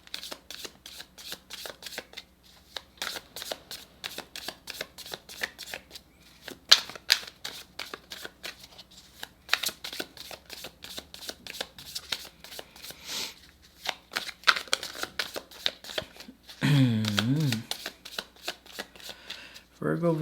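Tarot and oracle cards are shuffled for a reading in a long run of rapid, crisp riffling and flicking, close and fairly loud, with a brief pause partway and a louder burst of handling near the end.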